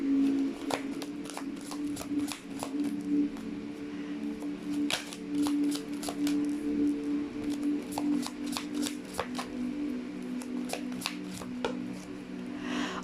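A tarot deck is shuffled and cards are pulled close up in rapid, crisp riffles and flicks over a faint steady hum, with no talking.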